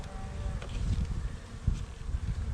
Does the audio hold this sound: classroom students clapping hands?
no